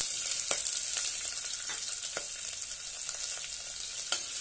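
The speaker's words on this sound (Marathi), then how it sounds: "एक कांदा बारीक उभा कट करून घेतलेला आहे तो घालूया।" Thinly sliced onion sizzles in hot oil with black pepper, cloves, cinnamon and bay leaf for brinjal masala rice: a steady, dense, close hiss broken by scattered crackles and a few sharper pops, with no voices.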